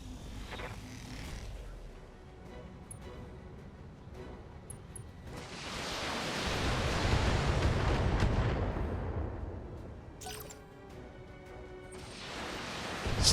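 Heavy mech weapons firing in the BattleTech video game, a broad roaring blast that swells around the middle and fades, with sharper bursts of fire near the end and faint background sounds.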